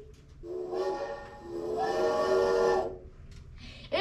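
A child imitates a Tom Thumb steam locomotive whistle with two rising, wavering hoots, the second longer and louder, performed on stage at a school spring music program.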